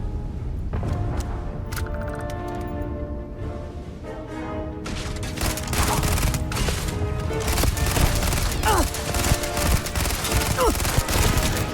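Gunfire from a turret in the Starfield video game comes in dense bursts and rapid volleys, intensifying in the second half amid clattering impacts, with no voices.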